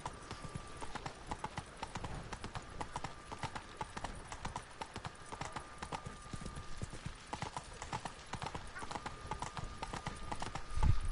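Roach, Geralt's horse in The Witcher video game, gallops with a steady, rapid clip-clop of hooves running throughout over a dense background of ambient noise, with a brief louder thump at the end.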